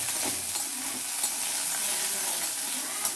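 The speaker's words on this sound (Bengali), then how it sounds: "আমি এই যে বাদামটা এর মধ্যে ভেজে নেব।" Peanuts fry in oil in a pan with a continuous close sizzle and occasional light stirring scrapes, steady throughout with no voices.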